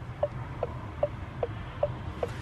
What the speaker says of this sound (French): c'est le bruit du clignotant.